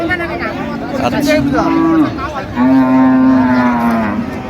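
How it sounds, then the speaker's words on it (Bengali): A cow at a rural cattle market gives two long, loud, close moos, the second one more drawn out, with a brief pause between them and low crowd murmur behind. "গাভী বাছুর আমরা দেখছিলাম এখানে"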